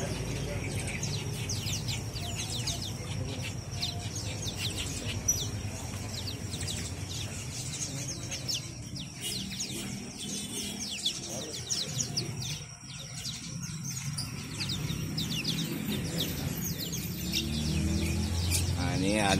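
Pleci lombok birds at a bird market chirp in many quick, high tweets throughout, with more birds and steady market background noise filling the space.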